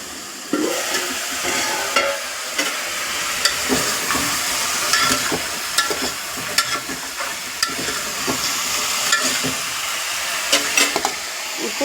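Raw, unboiled potatoes fry in oil in a home kitchen, a steady close sizzle broken by repeated scraping and stirring clicks from a utensil, with no voices throughout.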